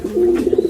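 A Dabwala pigeon chick gives a single short coo, a clear near tonal call that wavers into a few quick pulses at its end.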